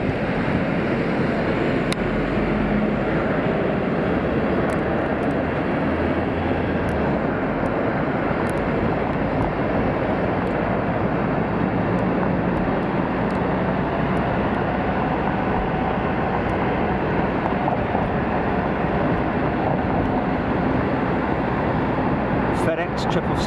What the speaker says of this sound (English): There's a lufty 350 on the push.